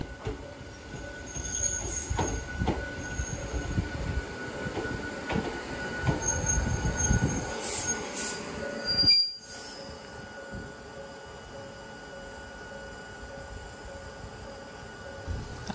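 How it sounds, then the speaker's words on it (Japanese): A Hakone Tozan Railway train pulls into a mountain station, its wheels squealing in high sustained tones over rumbling, clanking rolling noise, loud and close, before the sound cuts and leaves quieter ambience. "次の電車が来るかなと思ったら反対方向から来ました。"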